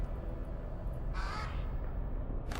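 Crows caw in the fantasy strategy game Age of Wonders III, with two harsh, short calls standing out over a steady, dense rumbling backdrop; no voices.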